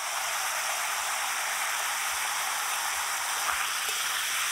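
Vegetables with ginger, green chili and a little chili powder frying in a pan, giving a steady, even sizzle throughout at moderate loudness with no voices.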